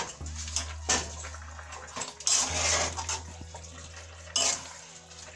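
A pan of Jamaican curry chicken being stirred, with scraping and clinking of a utensil against the pan in a few separate bursts over a low steady hum, no talking.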